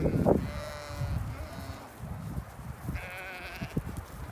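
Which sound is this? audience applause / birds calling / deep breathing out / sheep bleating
sheep bleating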